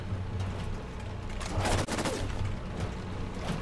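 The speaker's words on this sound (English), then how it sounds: "shooting the arms off them seems to be an excellent tactic" Rapid gunfire from the video game Fallout 4, dense bursts of shots in a steady broadband crackle, loudest around the middle, with no talking.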